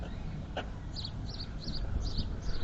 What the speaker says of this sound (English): Let's try and listen to the bird.